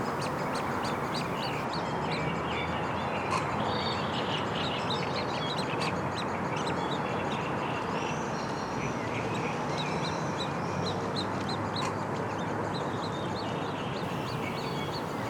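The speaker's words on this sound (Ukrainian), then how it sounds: "знайшов всю родину пташнят, які спочивали на колоді прямо біля берега" Young waterfowl chicks on a lake in spring, with the adult birds nearby, give steady peeping and quacking calls that fill the whole stretch evenly against a dense, constant outdoor background.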